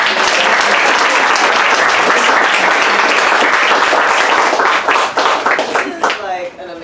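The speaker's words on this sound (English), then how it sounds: "Let's give another round of applause." Loud, sustained applause from an audience at a literary author event, dense clapping filling the room and tapering off near the end.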